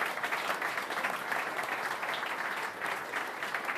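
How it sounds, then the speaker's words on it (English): An audience applauds a panel at an evening talk, a dense steady clapping that fills the room and continues evenly from start to finish. "Can we get a round of applause for our panel?"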